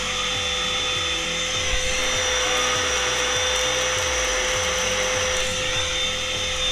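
A Craftsman 20V cordless agitating vacuum runs with a steady, high-pitched motor whine and a constant whirring hum from the beater, close and loud, with no talk.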